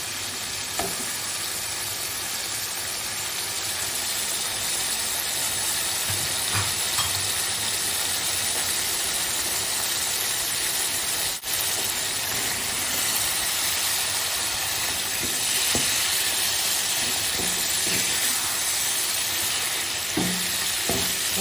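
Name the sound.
prawns frying in spice masala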